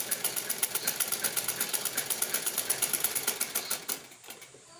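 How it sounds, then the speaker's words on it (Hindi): A sewing machine stitches a homemade cloth face mask with a rapid, even, close mechanical chatter that runs steadily and then stops just before the end. "यहाँ से ऐसे सिलाई लगाएंगे।"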